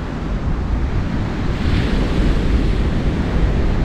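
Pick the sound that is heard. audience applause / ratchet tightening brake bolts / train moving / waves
waves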